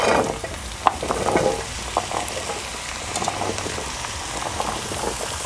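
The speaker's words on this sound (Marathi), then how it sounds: "ते तेलामध्येच आपल्याला परतून घ्यायचं" Chopped pumpkin with onion and garlic sautéing in oil, a steady crackling sizzle broken by a few sharper stirring scrapes, close up and without speech.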